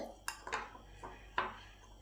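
A spoon scrapes and clinks against a bowl while gram flour batter is mixed with pea pod paste, giving a few faint, irregular taps and scrapes close by.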